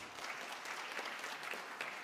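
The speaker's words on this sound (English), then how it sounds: "A round of applause" Faint, steady applause from a small audience at a World Food Preservation Center event, continuous overlapping claps heard at a distance with no voices.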